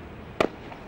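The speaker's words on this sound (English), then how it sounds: "Sporadic gunfire coming from all directions." A single distant gunshot cracks once in otherwise quiet surroundings during wartime fighting in Iraq in 2003, a short sharp report with a faint trailing echo.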